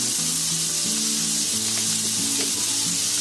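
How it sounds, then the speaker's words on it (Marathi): Onion roasting in a pan for Konkani-style chicken, a steady loud sizzle hissing across the whole span with occasional soft stirring scrapes, close by and without talk. "कांदा भाजायला टाकलाय"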